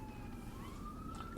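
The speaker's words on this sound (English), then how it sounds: "that actually is an ambulance" An ambulance siren wailing in the distance, its tone sliding slowly upward as it passes, faint beneath a steady room hum.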